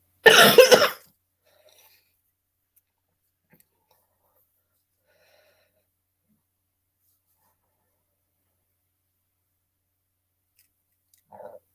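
A single short, harsh cough bursts out at the start, followed by near silence with a faint brief sound at the very end.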